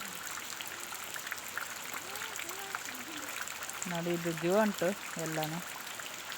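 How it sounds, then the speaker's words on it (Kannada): Steady broadband hiss of heavy rain throughout, with someone talking over it in the second half. "ತುಂಬ ಮಳೆ ಸಿಕ್ಕಾಪಟ್ಟೆ ಮಳೆ ಉಂಟು"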